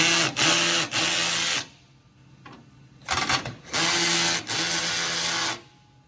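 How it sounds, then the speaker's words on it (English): A cheap hammer drill drives screws while building a heavy-duty sifter, whirring in bursts of about a second each, separated by short quiet gaps and brief clicks. "This is just a cheap hammer drill, and I got it on like 17"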